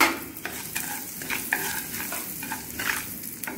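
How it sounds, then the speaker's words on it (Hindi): Mustard seeds and asafoetida fry in oil over a low flame in a pan for tomato kadhi, a close, crackling sizzle with irregular popping bursts and stirring scrapes throughout. "सरसों डालेंगे। सरसों के दाने भुन जाएंगे, आंच हमको धीमी ही रखनी है और अब हम हींग डाल देंगे"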